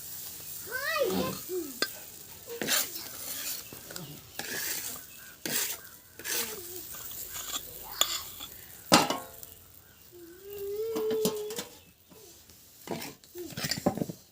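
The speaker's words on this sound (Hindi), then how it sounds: "इधर हम तवे चढ़ाए हैं तो उस पर हम मिर्च भून लिए हैं।" Chillies roasting on an iron tava over a village stove make soft sizzling under repeated scraping and metallic clinks of a stirring utensil. Faint voice-like sounds come through in between.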